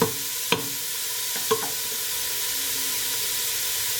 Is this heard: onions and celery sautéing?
yes